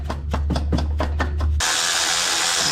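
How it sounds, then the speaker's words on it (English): A part on a VR6 24v engine is tapped down past a pulley, giving about seven sharp, evenly spaced close knocks over a low hum, followed by a broad scraping hiss. "I'm just tapping on this to get it down through that"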